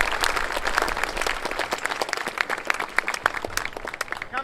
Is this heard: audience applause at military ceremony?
yes